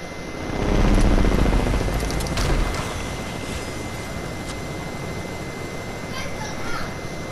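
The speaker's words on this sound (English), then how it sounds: "Just quickly get the chopper." A helicopter flies in Fortnite, giving a continuous broad whooshing rotor and engine rumble that swells early and then holds steady, heard under players talking.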